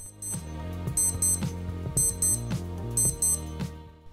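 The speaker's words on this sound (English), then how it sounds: "The alarm is just a simple beeping sound, and yet it's just loud enough to wake you from the deepest of sleep." A Casio F-91W digital watch alarm sounds in repeated short bursts of high beeps, clear and fairly close, heard without talk.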